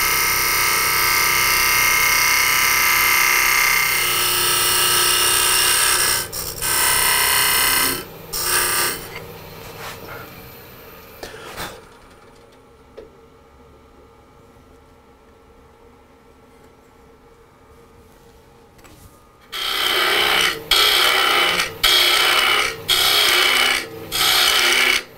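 A hand tool rasps and scrapes while hollowing out the inside of a wooden rocket ship box, loud and close in steady bursts, pausing into near silence midway before several more strong scraping strokes.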